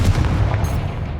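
A Confringo spell blast in Hogwarts Legacy plays as a loud, sustained booming burst that rumbles and slowly fades over about a second, with no voices.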